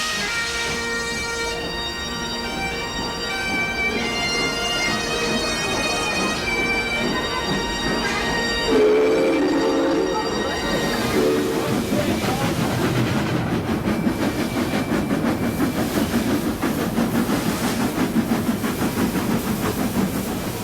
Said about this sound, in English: The 3 magnificent locos moved out of Spencer Street together, but all eyes were on the Flying Scotsman